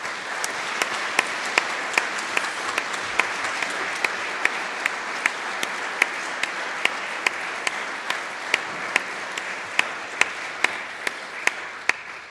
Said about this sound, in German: Vielleicht einen Applaus für alle.